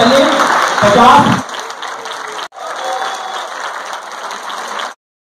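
An audience claps for the children who placed top three of fifty teams in a quiz, loud applause with voices that briefly cuts out, resumes and then stops abruptly.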